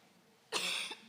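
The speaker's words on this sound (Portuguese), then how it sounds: "Então, a tosse está me segurando." A woman gives a single short, sharp cough in a church sermon setting, close to the microphone after a quiet moment, with a small catch of breath at its tail.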